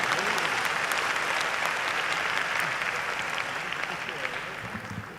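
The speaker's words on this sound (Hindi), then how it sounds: "आपकी आंखों में थोड़ी लज्जा शेष हो तो एक बार मेरे लिए भी तालियां बजा दीजिएगा" Audience applause fills a Hindi poetry recital, the kavi sammelan held in Kolkata, with dense, sustained clapping throughout that fades slightly toward the end.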